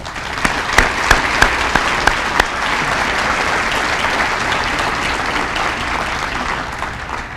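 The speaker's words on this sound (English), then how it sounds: "Let's give them a round of applause, please" An audience at a 2013 senior awards banquet applauds: a few sharp, separate claps ring out first, then a full, sustained round of clapping fills the room at a steady, moderately loud level.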